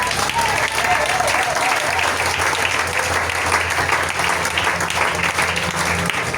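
Congregation at a church service applauding and cheering, a loud continuous wash of clapping and crowd noise with voices mixed in throughout.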